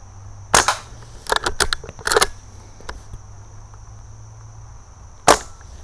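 An Umarex Cowboy BB rifle and revolver, stored for two months, fire at cans outdoors. Sharp snapping shots and metallic can hits come in irregular clusters, with a last crack near the end against a faint steady hum.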